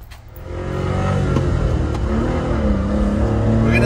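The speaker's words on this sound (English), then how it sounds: "This bad boy produces 64 horsepower with the 3-cylinder 600cc engine." A Honda Beat's small 3-cylinder 600cc engine revs up and pulls steadily under acceleration, its pitch climbing through the gears, loud and close, with no voices.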